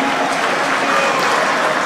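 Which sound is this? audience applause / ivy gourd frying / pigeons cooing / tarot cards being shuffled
audience applause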